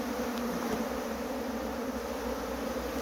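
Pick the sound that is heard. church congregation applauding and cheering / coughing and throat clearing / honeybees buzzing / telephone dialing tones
honeybees buzzing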